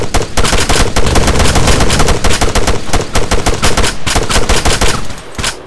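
Sustained rapid automatic gunfire fills a military video game battle, loud and close, with overlapping bursts that ease off briefly before the end.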